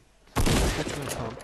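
A sudden burst of gunfire erupts in a shooter game, a loud sustained volley that starts abruptly after a quiet moment and rolls on for about a second.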